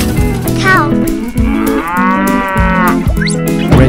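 A single drawn-out cow moo from a 3D animal slides video game sounds clearly in the middle, set against lively, plinking background music.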